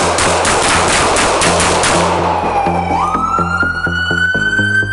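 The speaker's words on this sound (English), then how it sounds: "Shot fired, roll medical, blue 3." Gunfire during a police confrontation: a rapid string of loud sharp bursts, then a wailing emergency siren that rises and holds, all close and loud.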